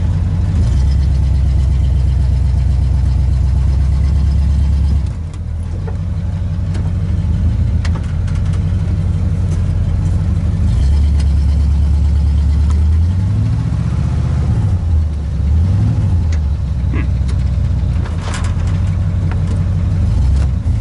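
A 1986 Oldsmobile Cutlass engine runs loud and close, idling with a steady low drone, revving up several times with rising and falling pitch, plus a brief dip where the engine nearly stalls.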